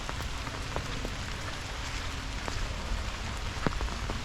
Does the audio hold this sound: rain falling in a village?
yes